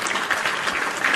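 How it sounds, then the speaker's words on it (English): A live show audience claps and cheers in a dense, continuous round of applause, fairly loud and close throughout the short burst. "Round of applause for the PWT universe as well"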